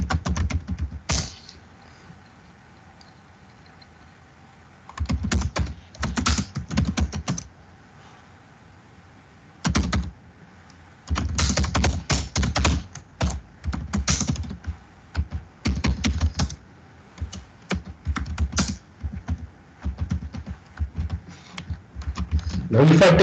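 Computer keyboard typing in bursts of rapid keystrokes, pausing between runs, while assembly code is written for NASM; a person talks over parts of it.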